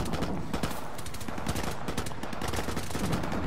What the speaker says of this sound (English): I already shot him.